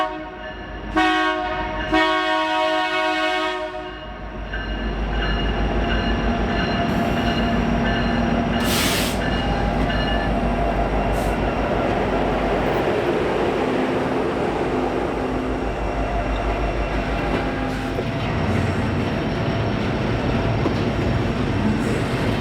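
Norfolk Southern freight train NS-242 passes near Armour with two KCS AC locomotives back to back. A loud horn blast opens, then the engines roar, and a long steady rumble of rolling cars and wheel squeal continues throughout.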